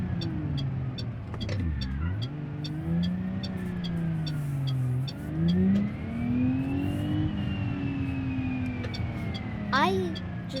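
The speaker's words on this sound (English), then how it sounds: "These cars are fun to drive around in." A car engine in BeamNG.Drive revs up and down in long swells, dipping then climbing steadily while a regular ticking clicks along above it.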